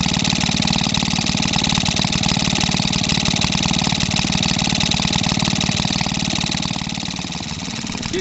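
Maytag 72 twin engine running slow while warming up, a rapid, even chugging putter with a rattling knock, loud and close, steady throughout with a slight easing near the end.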